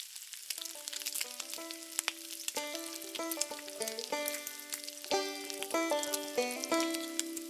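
Asafoetida hits hot oil for a Nepali-style mutton and radish curry, giving a steady close sizzle with crackling bursts, heard beneath background music.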